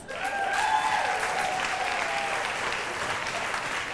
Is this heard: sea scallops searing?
no